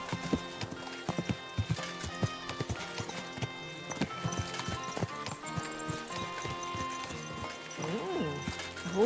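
Horse hooves clip-clop steadily on the ground in the medieval game Kingdom Come: Deliverance II, a close rhythmic beat over background music, with a brief whinny near the end.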